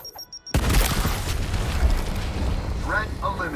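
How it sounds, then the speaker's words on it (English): A frag grenade explosion in the video game Gears Tactics: a sudden loud boom after a quiet moment, followed by a sustained rumbling roar and debris noise that slowly fades, with brief voice-like sounds near the end. "Frag going out."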